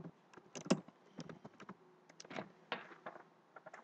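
Someone types on a computer keyboard, a quiet, irregular run of key clicks with short pauses and a few louder taps, with no voices.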